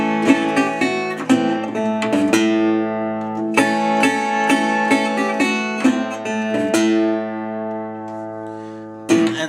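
Acoustic guitar plays a lick in Delta blues style, a solo run of plucked, ringing notes and strummed chords with sharp attacks and sustained decays, close and clear.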